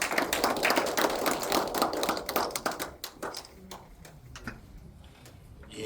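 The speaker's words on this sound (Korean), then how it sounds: "박수 부탁드립니다." Audience clapping at a report meeting, brisk close hand claps from a modest crowd that fade after about three seconds into sparse, scattered claps, with faint voices in the background.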